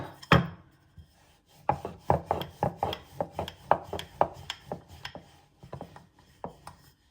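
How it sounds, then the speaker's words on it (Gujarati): A paratha dough ball for pizza paratha being rolled out with a rolling pin, making a steady series of close, soft knocks and rubbing strokes on the board, each stroke brief and repeated in an irregular rhythm with no talking. "આપણે પરાઠા માટે એક માપનો લુઓ લઈશું, વણીશું એને ફટાફટ."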